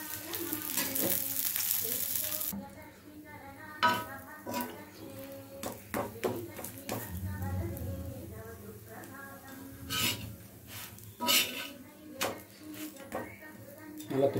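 Ragi adai batter sizzles and fries steadily on a hot pan, with occasional utensil taps and scrapes over the constant hiss and a voice talking intermittently.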